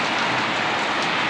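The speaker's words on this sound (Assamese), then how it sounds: "বৰ জোৰে দিছে বৰষুণত দেখিছে নাই" Heavy rain pours down steadily in a dense, continuous broadband hiss with no gaps, loud and close, falling alone without voices.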